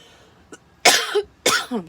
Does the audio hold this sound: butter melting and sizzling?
no